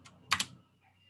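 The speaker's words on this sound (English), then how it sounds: "You hear me pressing spacebar," A computer keyboard spacebar is pressed, giving a few close, crisp clicks: one quick tap followed by a sharper double clack, then quiet.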